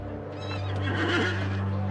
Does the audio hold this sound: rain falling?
no